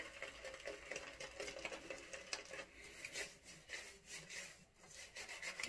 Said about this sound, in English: Let's lather, right?